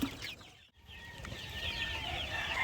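Young chicks crowding together in a brooder to drink water laced with vitamins, a close cluster of high, continuous cheeping and peeping with a brief pause near the start.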